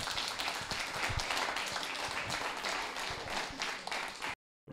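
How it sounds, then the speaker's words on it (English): A small audience gives a robotics team a round of applause, with continuous close clapping of moderate loudness for several seconds before cutting off abruptly. "Everybody give them a big round of applause."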